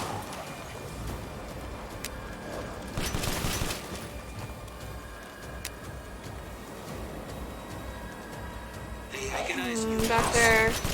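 Gunfire in Resident Evil Village comes as repeated shots and bursts over a busy game soundscape, with a louder flurry around the start and a scattered crackle toward the end.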